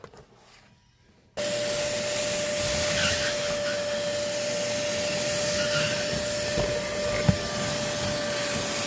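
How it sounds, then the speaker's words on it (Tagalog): A vacuum cleaner starts up after a second of near quiet and runs steadily with a loud, even whine and broad hiss, used to clean a Toyota Fortuner 2TR VVTi gas vehicle, with a brief knock near the end. "Try na natin i-vacuum ngayon."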